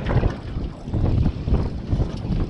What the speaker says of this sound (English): But the wind's just picking up.